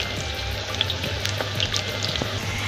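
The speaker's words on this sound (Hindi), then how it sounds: "हम लोग का तेल गरम हो चुका है, तो अभी हम लोग इसको फ्राई करेंगे" Sojan pieces frying in hot oil for a pickle, a close, steady crackling sizzle with small pops, with no talking.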